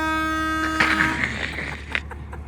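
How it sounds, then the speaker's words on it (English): An air horn on a Cummins-powered limousine sounds a steady harmonic blast for about a second, then cuts off into a brief burst of rattling and clunks, with engine rumble running underneath. "Air horn."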